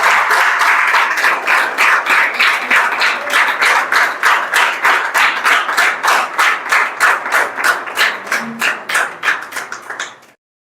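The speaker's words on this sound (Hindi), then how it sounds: "आप लोग जोरदार तालियों से इसमें स्वागत करें" Students clap loudly in unison to welcome a prize winner, a fast, steady rhythm of sharp, evenly spaced hand claps filling the room before stopping abruptly at the end.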